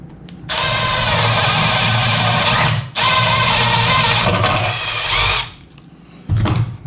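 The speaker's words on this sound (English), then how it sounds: "Get my drill." Power drill boring a hole in a skateboard deck, a loud, steady high whine in two long bursts separated by a brief pause, then a short final burst.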